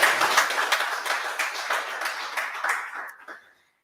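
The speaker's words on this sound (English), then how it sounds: "Let us give all entrepreneurs a round of applause." A crowd applauds entrepreneurs at a business dialogue event, with a steady patter of many hands clapping that thins out and stops near the end.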